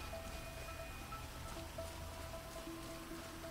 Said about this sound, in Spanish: Madre mía, el chaparrón que está cayendo